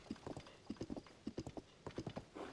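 Horse hooves galloping in Zelda: Tears of the Kingdom, quick rhythmic clip-clop beats in clusters, fairly quiet and steady with no talking.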